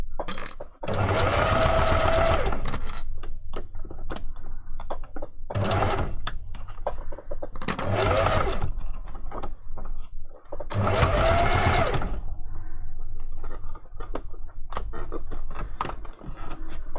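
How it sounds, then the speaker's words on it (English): Sewing machine stitching a fursuit paw in several fast, rattling bursts of a few seconds each, close and loud, separated by quiet pauses. "If you're not confident doing it on a sewing machine"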